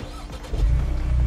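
A 2024 Ford Mustang EcoBoost Premium four-cylinder turns over and fires up, moving from a short starter whir into a deep, steady rumble heard up close.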